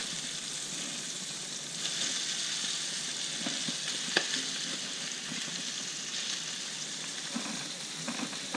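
Fish fillets sizzle steadily in a hot pan, a constant hiss with occasional faint pops and scrapes, fairly quiet, no talking.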